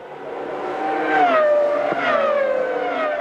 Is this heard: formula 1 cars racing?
yes